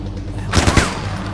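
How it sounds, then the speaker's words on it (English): Distant gunfire in the video game Far Cry 4: a short burst of three or four rapid shots, muffled and moderately loud against a low background hum. "pay no attention to the distant gunshots"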